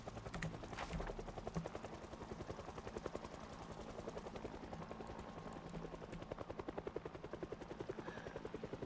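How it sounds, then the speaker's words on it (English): A helicopter in the video game Project Zomboid passes with steady, rapid rotor thumping, moderately loud and sustained, with no talking. "Helicopter event."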